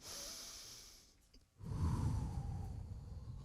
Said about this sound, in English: Now, I want you to take a deep breath in